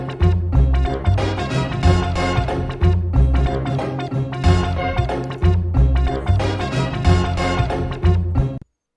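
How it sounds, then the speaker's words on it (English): Chopped samples layered into a beat loop without drums: a deep bass line, plucky guitar stabs and punchy horn blasts repeating in a steady, busy rhythm, loud and dense throughout before cutting off abruptly. "I'm going to play you now all them samples together without the drums"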